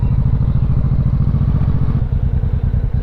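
An old motorcycle engine runs loud and close with a rapid, uneven chugging putter and some clattering, holding steady throughout without any voices.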